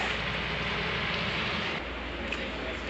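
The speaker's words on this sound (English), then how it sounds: "It's raining outside." Rain falls steadily outside a horse barn, a soft continuous hiss of drops on surfaces, heard at moderate distance with a slight drop in level partway through and no talking.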